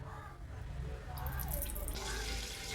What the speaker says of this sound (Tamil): 100 ml எண்ணெய் சேர்த்துக்கிடுவோம்.